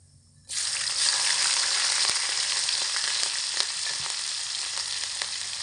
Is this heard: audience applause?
no